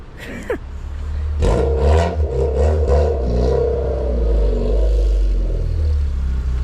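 A Honda CRX with a 90-horsepower D-series engine accelerates away, its engine note rising through revs with a steady low rumble that stays fairly strong and moves off at a moderate distance.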